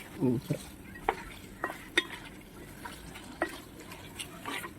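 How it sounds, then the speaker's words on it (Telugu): Tomato paste for a mutton curry is fried and stirred in a pan, soft intermittent spoon scrapes and light clinks over a faint sizzle, quiet and close with no speech. "ఈ టమాటా పేస్ట్ మంచిగా పచ్చి వాసన పోయేంత వరకు ఫ్రై చేసుకుందాం"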